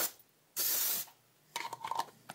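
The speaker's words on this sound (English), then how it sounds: "it's a perfect opportunity to use some canned air and spray it out" Canned air sprays dust out of an exposed PS5 fan in one sharp half-second hissing burst, followed by a few faint clicks and handling rattles.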